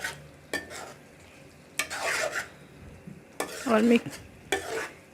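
Spoon scraping and stirring brinjal and arbi curry in a pan, with green chillies and coriander added, in a few separate bursts of scraping and soft sizzle amid quiet pauses.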